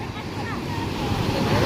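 Large ocean waves breaking and surging in a steady broadband roar with wind noise over the microphone, loud and continuous with no clear pauses.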